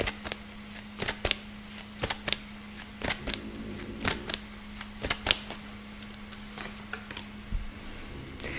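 A deck of tarot cards is shuffled by hand during a reading, producing a string of crisp riffling bursts and soft taps, close up and evenly repeated with short pauses between.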